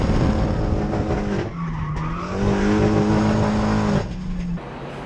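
Drift car engine revving hard on a dyno, a loud buzzing rasp climbing in pitch through short stepped gear changes, dipping briefly between pulls, up close with no talk.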